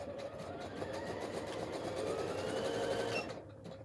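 A PFAFF Expect 350 sewing machine running fast, a steady close mechanical whir with a rapid needle rhythm that rises slightly in pitch before cutting off near the end.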